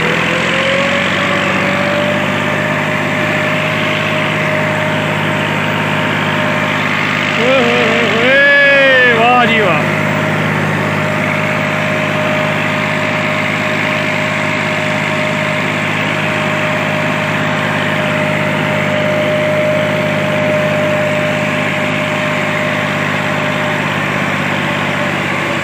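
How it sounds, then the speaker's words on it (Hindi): A tractor on a farm with a heavy engine chugging loudly and steadily, idling and then pulling away, with a brief burst of higher whining sounds partway through and a voice speaking intermittently. "और अब ये चलेगा यहाँ से ट्रैक्टर"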